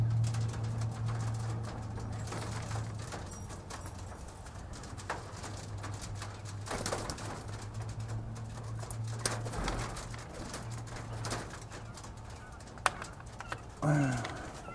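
Baby quail newly added to a breeding flock flutter and scurry in panic inside an enclosure, giving steady rustling and scratching, with soft chirps and a few sharper knocks over a low hum.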